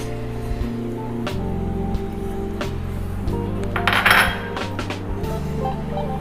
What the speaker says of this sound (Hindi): और एक यही पैन लेंगे, उसमें ऑयल में डाल दूंगी।